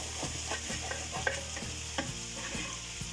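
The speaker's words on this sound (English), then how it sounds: "You stir it very well." A spoon stirs a peppery chili stew with cow skin in a pot, giving rhythmic scraping strokes about every half second over a low simmering sizzle, close and without talk.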